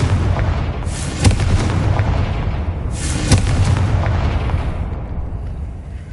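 Two Confringo blasting-spell explosions from Hogwarts Legacy on PS5: loud booming bursts about two seconds apart, each swelling into a rolling roar before fading, with no talking.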